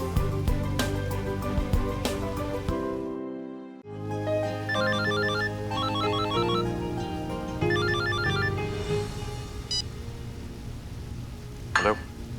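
A telephone rings during a meal at home in a Hindi TV serial, with a repeating electronic ringtone pattern over background music and ambient sound, loud and near.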